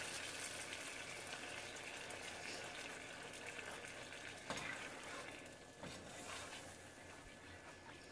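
Mexican rice frying in a pan on medium heat and being stirred, heard as a steady soft sizzle with occasional scraping strokes of a utensil, fairly faint and without speech.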